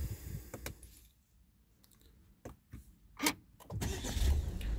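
A Volkswagen Tiguan R-Line or Citroën C5 Aircross Shine is started from inside the cabin, with a few faint clicks, then the engine catching and settling into a close, steady idle at the end.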